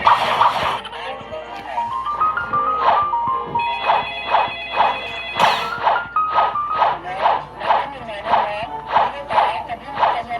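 A telephone ringtone repeats in steady electronic bursts of a few tones, fairly loud, with people talking over and between the rings.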